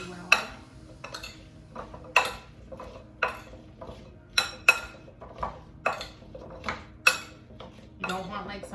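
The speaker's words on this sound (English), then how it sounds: "we're going to stir this together" A spoon clinks against a pot or bowl while carrots are tossed with spices, sharp metallic taps at an uneven, roughly one-per-second pace over a quiet background.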